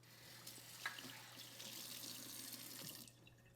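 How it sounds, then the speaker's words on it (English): Tap water running steadily into a kitchen sink while dishes are rinsed beneath it, a soft, close splashing hiss with a few brief clinks and knocks, ending abruptly as the flow is shut off. "And rinse this out and this out."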